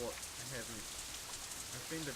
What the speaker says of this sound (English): The rain increases a little more